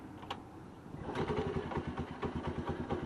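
A Honda Navi motorcycle engine catches on the first start and settles into a rapid, even putter, close and fairly loud after a brief quieter lead-in.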